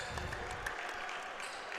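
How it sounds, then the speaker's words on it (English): Home crowd at a women's college basketball game clapping for departing seniors, a quiet, distant patter of applause blended with arena murmur and low rumble. "the seniors get the clap from the Fordham faithful"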